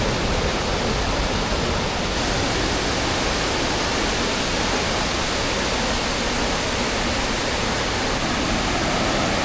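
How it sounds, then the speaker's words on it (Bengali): Bhatinda Waterfall near Dhanbad, on the Katri river, roars as a loud, constant broadband rush of falling water, steady and close, with no talk. "এই হচ্ছে ভাতিন্দা ওয়াটারফল।"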